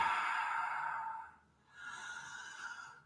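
Ujjayi breathing during a hot yoga breathing exercise: a long, steady hissing exhale fades out, then after a brief pause a second smooth breath builds again, close and alone without talk.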